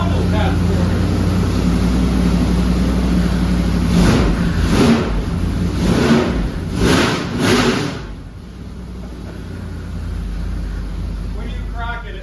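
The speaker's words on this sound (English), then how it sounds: "can you do a throttle test for me?" An engine idles, then revs in several short throttle bursts during a throttle test, a voice speaking over the first revs before the engine settles back to idle.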